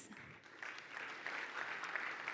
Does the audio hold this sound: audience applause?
yes